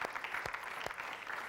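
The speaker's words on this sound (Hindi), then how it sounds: "जोरदार तालियां।" Studio audience at a TV game show clapping, a brief burst of fairly quiet applause with a few sharper individual claps standing out.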